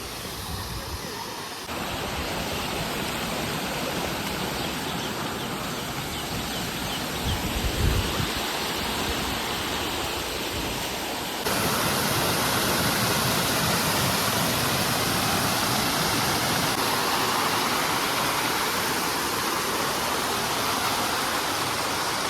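The Karambeli waterfall roars as a steady, dense rush of falling water, loud and continuous throughout, with a brief bump of handling noise partway through.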